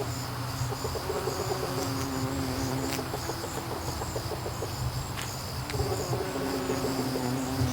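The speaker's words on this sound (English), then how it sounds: "we've got some serious bumblebee action happening here." Bumblebees buzzing around a flowering garden plant outdoors, a continuous low droning hum from several insects close by, with crickets chirping steadily in the background.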